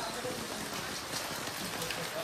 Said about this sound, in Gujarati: વરસાદ તો ચાલુ જ છે અત્યારે ધબધબાટી.